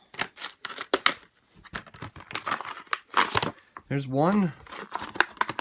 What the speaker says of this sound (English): I just cut all this plastic off